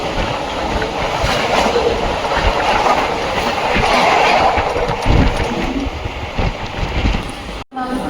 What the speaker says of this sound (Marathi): चल ट्रेन आले